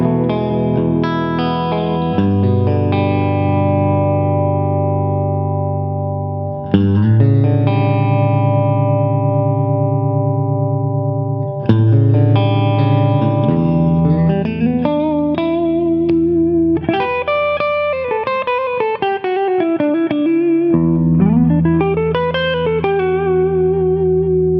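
Electric guitar played through a Twin Reverb amp model in AmpliTube 5, a clean, reverb-soaked tone, sustained chords giving way to melodic bends and slides, loud and steady.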